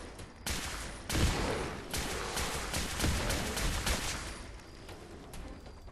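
Kiloton Rifle fire in Fallout 4 Far Harbor: a rapid series of loud, sharp shots with explosive bursts, several cracks in quick succession with booming area-of-effect blasts and rumbling tails.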